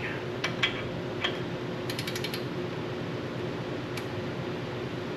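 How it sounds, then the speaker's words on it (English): A torque wrench ratchets while tightening a bolt during a steering upgrade with Dynatrac ball joints, producing faint, quick clicking bursts over a steady background hiss. "Now I need to bring out the big socket. A torque wrench."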